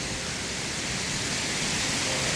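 A waterfall beside a small house in the Faroe Islands rushes in a steady, dense hiss, loud and unbroken with no other sounds standing out.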